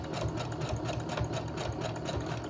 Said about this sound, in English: So when I sew a little further,